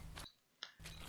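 Two squelchy, wet-sounding video game footsteps through mud, one at the start and one at the end, with a soft click in the quiet between them.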